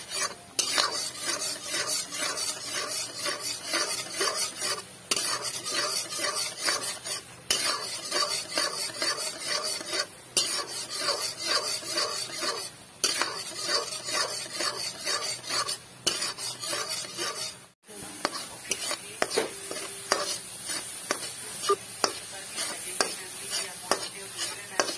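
A milk powder mixture for burfi is stirred steadily in a pan, a rhythmic, close scraping of spoon against metal repeating every second or so over a soft sizzle, continuing throughout.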